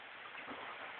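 Soft, steady rain hisses evenly throughout, faint and continuous with no voices.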